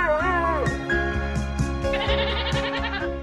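A goat bleats in a wavering, nasal cry over a steady, loud musical backing with regular beats, the animal call sitting near and clear before the tune carries on alone.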